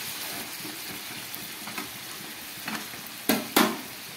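Spicy chicken cooking covered over low gas, a soft steady sizzle and bubbling hiss with a couple of louder clanks or lid knocks near the end.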